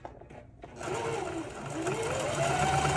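A sewing machine stitching two pinned fabric halves together starts up after a quiet pause and then runs at a steady, rising whir close by for the rest of the moment.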